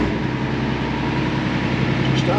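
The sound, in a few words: ex-army Unimog engine starting and idling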